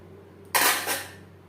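A spatula stirs katla fish into gravy in a pan, producing one brief, fairly loud scraping clatter after a quiet moment.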